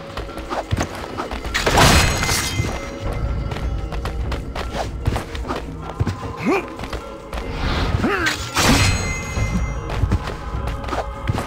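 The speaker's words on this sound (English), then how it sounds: "Explosions from above." Explosions boom from above during a siege in Assassin's Creed II, heavy thuds and crashes recurring across the clip amid dense game ambience.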